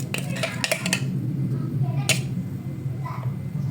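A spoon scrapes sticky blended sugar from a blender jar in a home kitchen, giving a few sharp clinks and scrapes over a steady background hum.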